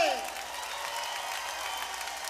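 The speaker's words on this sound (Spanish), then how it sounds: "Aplaudan con las dos manos para que se escuche" An audience at a live salsa concert applauds, a dense steady clatter of many hands clapping that holds evenly throughout, moderately close, with a brief voice at the very start.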